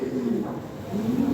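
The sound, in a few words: pigeons cooing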